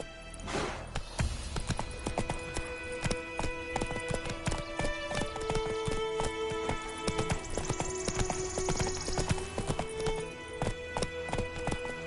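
Horse hooves pounding in a rapid galloping rhythm in the Witcher 3 video game, loud and steady throughout, with a brief neigh near the start and faint game music underneath.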